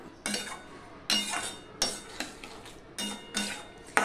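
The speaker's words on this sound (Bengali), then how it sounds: "এবার সম্পূর্ণটা আমি মিশিয়ে নিলাম।" A spoon scrapes and clinks against a pan as a vegetarian curry with ghee and sugar is stirred, about six distinct rhythmic strokes, close and clear.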